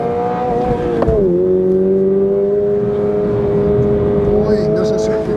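A sports car's engine holds a loud, steady high rev that dips briefly as it slides into a drift on a test track, the comparison including a Hyundai i20N, Ford Puma ST and Toyota GR86 RZ; a voice speaks over it.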